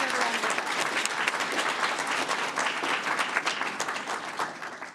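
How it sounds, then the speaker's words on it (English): Loud, close applause from the audience at a school board of education meeting, a thick, even patter of many hands clapping that tapers slightly at the end. "they deserve a round of applause"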